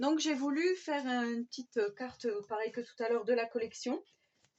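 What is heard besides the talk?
No everyday noise stands out behind the speech.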